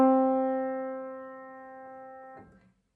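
Middle C played once on a piano keyboard, a single clear note that rings and slowly decays for over two seconds before being damped, quiet and alone.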